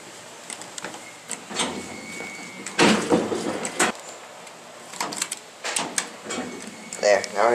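OTIS Series 1 traction elevator doors at a Hilton in Tucson sliding and rumbling in short bursts, with clunks and a faint chime, while a person talks nearby.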